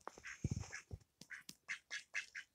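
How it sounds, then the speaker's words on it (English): Ducks on a farm quack in the morning, a run of short, nasal calls following one another closely, fairly near and clear against a quiet background. "Beautiful, beautiful ducks in the morning."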